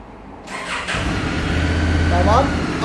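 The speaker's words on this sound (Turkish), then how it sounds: "Çalıştırın motoru." A 2020 Honda Africa Twin motorcycle engine cranks and catches, then settles into a steady, loud idle in the foreground; people talk over it.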